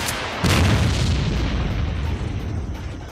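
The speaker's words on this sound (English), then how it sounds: "Apparently our Clear Sky squad is just carrying a whole bunch of RPGs or something, because they're just blowing this whole area up" RPG rockets burst in a S.T.A.L.K.E.R.: Clear Sky firefight: a sharp, heavy boom hits, then a long, loud rumble rolls on and slowly fades.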